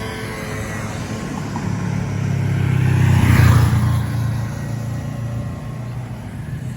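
A Honda NX500 motorcycle with its stock exhaust rides past on a test run, the engine note swelling louder as it nears mid-clip and then fading, with no talk.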